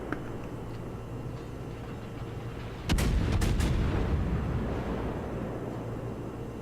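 Naval guns fire in a World of Warships battle against a background rumble: a sudden heavy blast, then two or three quick broadband booms in a close cluster that fade into a lingering roar.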